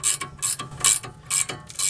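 An 18mm ratcheting wrench tightens an outer tie rod end nut on a 2007 Ford Mustang, with rapid, close ratchet clicks in repeated bursts as the handle swings back and forth.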